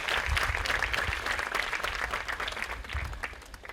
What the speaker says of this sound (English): So graduates, please give a round of applause to your parents and family members